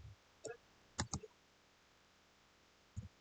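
Computer keyboard typing in a quiet room, heard as a few sparse, sharp key clicks in small clusters with long silent gaps between them, faint and close.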